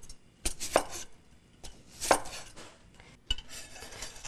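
Onion being chopped with a knife on a board, a few scattered close knocks with short pauses between them, fairly quiet, with faint clinks of kitchenware and no speech.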